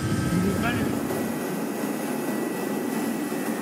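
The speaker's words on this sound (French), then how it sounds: "Pression, température, on monte les moteurs." Rescue helicopter engines spooling up for take-off, a steady broad turbine roar with a brief rising whine, close and loud throughout, with faint voices underneath.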